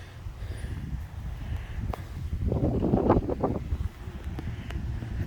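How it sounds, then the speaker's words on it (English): Strong wind gusts outdoors on a lakeshore bank during trout fishing, a steady broadband rush that swells louder in the middle of the clip before easing, with no talking. "when it's real windy like today, it's easier to see a bite on the end of your line"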